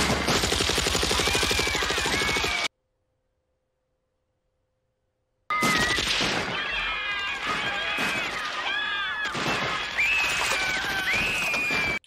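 Rapid bursts of gunfire and machine-gun rattle from the 1987 film Cry Freedom, loud and dense, cut by a few seconds of silence, then resuming with overlapping shots and shouting voices.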